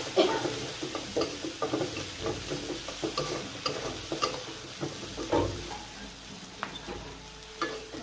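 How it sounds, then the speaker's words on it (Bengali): Onion frying in a pan with salt, chili powder, coriander, cumin and turmeric, a steady crackling sizzle broken by repeated stirring scrapes and light knocks against the pan, heard close with no talking. "দিয়ে পেঁয়াজটা ভেজে নেব।"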